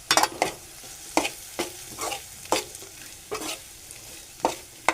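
Dry desiccated coconut sautéed in a pan for a green chili vegetable dish, stirred with repeated sharp scraping strokes over a faint steady sizzle, close and fairly loud, no voices.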